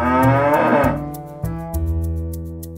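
A dairy cow lets out a loud, drawn-out moo that shifts pitch partway through and trails off, close by and alone with no talking.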